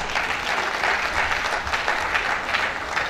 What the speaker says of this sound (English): First, I want you to give yourself a round of applause.